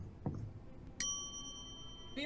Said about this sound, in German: dass wir die Glocke läuten müssen.